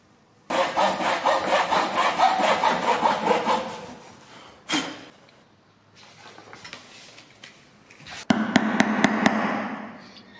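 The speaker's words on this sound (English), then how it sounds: "Cut a triangle in the shape of the base of the prism." A saw cuts a triangle from wood for a prism base, with a run of loud rhythmic strokes, then pauses with a few knocks and scrapes, and a final burst of sawing with sharp taps.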